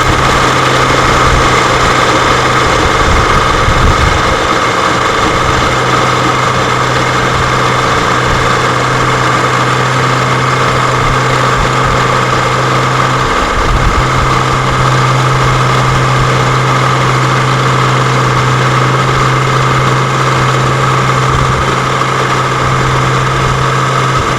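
An electric 4x4 winch winds in its line with a loud, steady motor drone and whine that holds constant throughout, with a slight wobble partway through and no speech.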